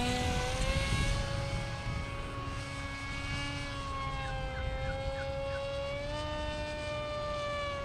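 Bixler 2 RC plane with an NTM motor and 7x4 propeller at full throttle in flight, a loud sustained high-pitched buzzing whine with a slowly wavering pitch, close and continuous with no talk.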